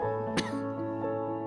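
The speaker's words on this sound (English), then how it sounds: "Still that damn cough." A woman in the video game Into A Dream gives a single sharp cough, close and loud, over a steady sustained music bed, with a fainter follow-up catch in the throat shortly after.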